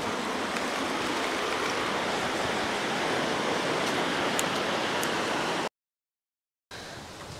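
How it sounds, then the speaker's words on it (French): Waterfall seen while out riding fat bikes on a trail, a steady, loud broadband rush of falling water filling the scene, with no talk, cutting out briefly before the roar resumes. "Il y a une belle cascade."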